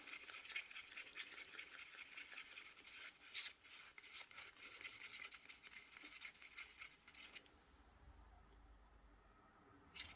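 Steady rasping and rubbing as something is stirred in a bowl, close and soft with a rapid scraping rhythm for about seven seconds, then it drops away to a low rumble with no talking.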